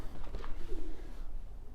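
Roller pigeons cooing softly in a loft built from an old doghouse, a low murmuring coo under steady background noise, close by and continuous.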